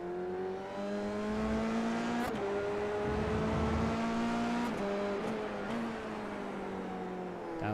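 In a Formula 3 sim-racing game at Interlagos, a race car's engine whines near and loud, dropping down through the gears with quick pitch steps and blips between shifts.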